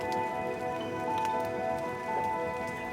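Heavy rain falls steadily through an autumn forest, a continuous patter of drops on leaves and surfaces with scattered louder ticks close by, along with a faint tonal hum underneath.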